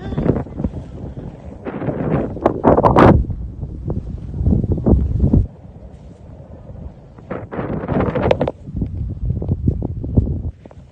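Strong wind buffeting the microphone in loud, rough gusts that rise and fall, with a brief quieter lull in the middle, in Banff, Alberta.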